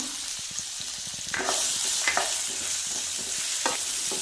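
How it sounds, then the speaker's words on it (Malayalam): Chopped onion hits hot oil in a pan, starting as quiet popping and then rising into a louder continuous sizzle with occasional stirring scrapes, heard up close and without speech. "അത് ചൂടായിട്ടുണ്ട് നമുക്ക് സവാള ചേർത്ത് കൊടുക്കാം"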